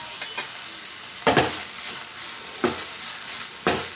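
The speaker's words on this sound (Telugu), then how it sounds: "ఇప్పుడు దీన్ని తిప్పుకుందాం." Egg rice being stirred in a sizzling pan with tomato, chili and soy sauces: steady frying hiss under several distinct scraping stirs of a spoon against the pan, close and clear.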